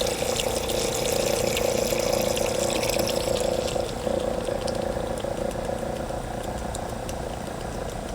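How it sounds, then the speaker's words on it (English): A small liquid pump pushes descaling solution through an RV tankless water heater, giving a steady, close whir with a constant mid-range tone and a watery rushing underneath, running without pause. "I want to push that solution out before I shut down the pump"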